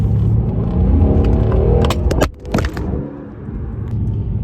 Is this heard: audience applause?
no